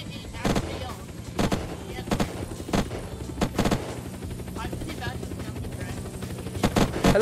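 Gunfire in a player-versus-player match of the survival game Unturned, several sharp shot bursts scattered across the stretch, loud and close, over a busy game soundscape with some talk.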